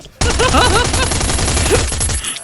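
Dense, continuous gunfire from a boss in the Last Island of Survival video game, a loud unbroken barrage lasting about two seconds with voices talking and shouting over it.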